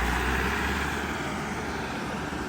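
A 4x4 tractor with a Shaktiman rotavator runs steadily close by while puddling a farm field, a dense continuous diesel drone with a slight low rumble change early on, no voices.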